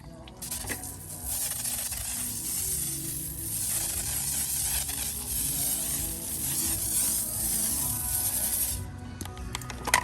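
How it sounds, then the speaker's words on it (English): A pressure washer sprays a Superclean pre-wash in a sustained, loud hissing spray that runs almost the whole time, steady with slight surges, then cuts off near the end leaving faint clatter. "We'll go ahead and spray that down."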